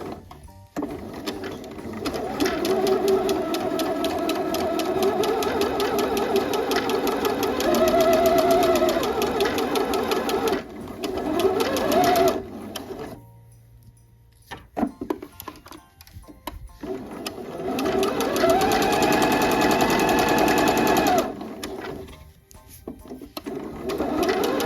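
Twin-needle sewing machine stitching pajama fabric, a steady mechanical whir with rhythmic needle clatter that runs for long stretches, pauses briefly while backstitching, then starts up again, close and loud.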